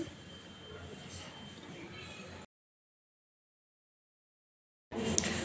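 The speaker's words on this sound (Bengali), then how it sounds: "ট্রেন আসছে।" A train arriving at a busy railway platform gives a steady broad rumble and rattle, cuts to silence for a couple of seconds, then returns just as loud.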